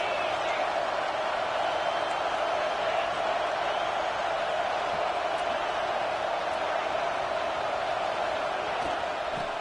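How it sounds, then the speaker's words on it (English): A college football crowd at a South Carolina vs LSU game roars in a steady, loud stadium wash that stays constant throughout, under a commentator's voice. "This crowd trying to make life miserable for this offense"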